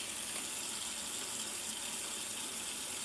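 Tap water runs steadily into an aquarium bucket, a continuous close hiss and splash that holds at an even level throughout with no voices.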